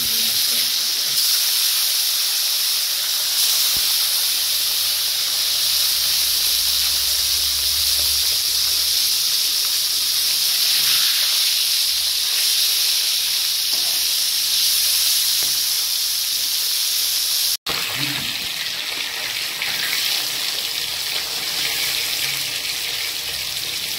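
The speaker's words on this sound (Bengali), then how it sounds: "মাছ ভাজা হয়ে গেছে" Bata fish fry in hot oil in a wok, giving a steady, loud sizzling hiss that runs unbroken throughout, with a brief cut near the end before the sizzle resumes.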